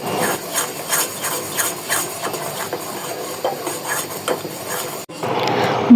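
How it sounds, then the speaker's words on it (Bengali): Caramel stirred in a pan, a steady close scraping and rubbing texture with repeated spoon strokes for about five seconds, then a brief cut to a softer hiss. "ক্যারামেলটা পারফেক্টলি হয়ে গিয়েছে এখন আমি জাস্ট নাড়াচাড়া দিয়ে টেক্সচারটা দেখে এটা নামিয়ে ফেলবো"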